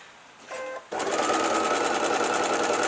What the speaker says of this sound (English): I'm just going to sew these pairs together